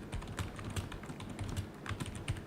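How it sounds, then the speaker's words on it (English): Quick, faint clicks and taps of typing on a computer keyboard, an irregular run of keystrokes heard up close with no voices. "I'll type it here."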